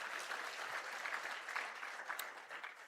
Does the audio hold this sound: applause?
yes